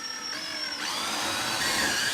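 A power drill whines close by for about two seconds, its pitch shifting as the bit bites into material, loud and continuous.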